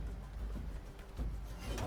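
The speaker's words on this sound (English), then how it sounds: "Bird." A bird coos in the video game Ravenswatch, soft and low over a murky background hum, with no talking.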